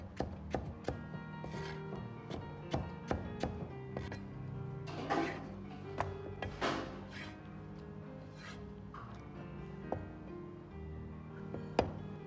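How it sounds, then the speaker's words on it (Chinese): A knife chops ripe tomatoes into even chunks on a cutting board, each stroke landing as a crisp, close knock in a fairly steady rhythm over a low background hum. "再切成大小均匀的块"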